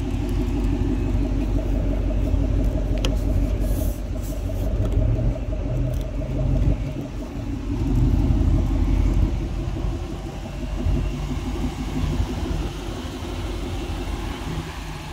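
A 2011 Ford Mustang Shelby GT500 with an upgraded exhaust idles and rumbles steadily nearby, a deep continuous engine drone that swells slightly at moments.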